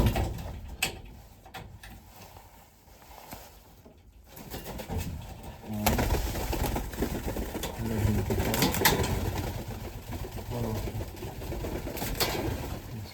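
Mykolaiv Kromaky-breed pigeons coo softly in the background amid scuffling and rustling, with a louder, busier stretch of movement noise in the second half; no speech.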